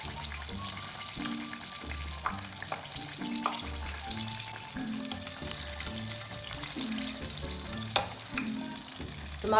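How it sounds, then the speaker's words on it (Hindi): Tomatoes frying in hot oil give a continuous sizzle, with stirring scrapes and a soft, rhythmic low knocking beneath, moderately close. "टमाटरों को 2-3 मिनट तक फ्राई कर लेंगे।"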